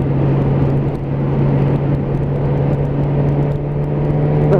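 A Suzuki GSX-S 1000 motorcycle accelerates on an open road, heard as a loud, steady engine drone mixed with heavy wind rush and no speech.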